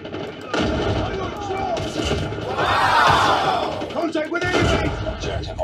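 Gunfire and explosions from the video game Call of Duty Modern Warfare, with bursts of shots and booming impacts over a busy battle soundscape while someone talks over it.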